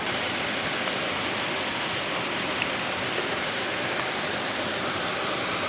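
Wadsworth Falls pours in a dense, constant roar of falling water, loud and unbroken from start to finish with no voices.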